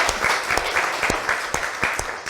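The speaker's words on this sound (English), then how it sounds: "let's give Richard a round of applause" A tech showcase audience claps, a dense, steady round of applause with some louder individual claps standing out, close and continuous, with no talk.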